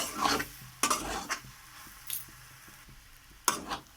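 Potato filling for cauliflower chops is stirred and fried dry in a pan, with a few sharp scraping clatters of a spoon against metal between quieter stretches and a faint sizzle underneath.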